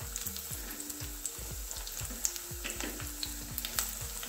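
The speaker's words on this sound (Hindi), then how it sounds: "अब हम पकौड़ों को तेल में डालेंगे और गोल्डन ब्राउन होने तक इनको फ्राई करेंगे।" Battered cauliflower pakoras frying in hot oil give a constant close sizzle, broken by irregular bubbling pops and light stirring clinks, with no talk.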